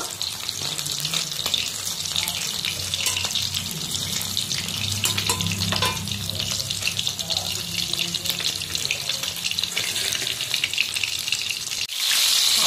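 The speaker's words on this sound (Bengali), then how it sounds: "আবার এই মাছগুলো ভেজে নিলাম।" Fish frying in a home kitchen pan, a steady close hiss and crackle of hot oil that runs unbroken for most of the stretch before a brief shift near the end.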